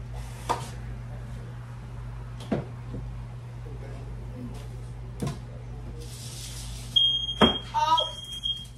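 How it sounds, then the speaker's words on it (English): A quiet home kitchen with a few sharp knocks and clicks as pizzas are pulled from the oven, then a piercing smoke alarm starts near the end as someone speaks over it. "I set off the smoke alarm."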